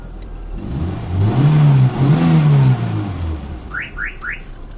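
A Mitsubishi Lancer GLXi engine with many faulty major parts revs hard, its pitch climbing and dropping in a couple of loud surges before settling, followed by a few quick high chirps.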